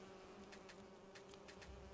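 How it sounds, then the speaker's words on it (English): Bees buzzing in Skyrim, a faint, steady insect drone with a soft hum that continues without pause. "Oh, here's some bees I can grab."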